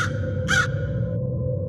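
A single crow gives one short, harsh caw over a steady low hum, clear and fairly close.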